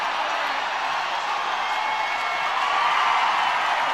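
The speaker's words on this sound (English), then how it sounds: "You can just hear this crowd erupting with every swing of the bat." Crowd roaring at a college softball super regional game between Oklahoma and Alabama after a home run, a loud, steady wash of cheering that swells slightly toward the end.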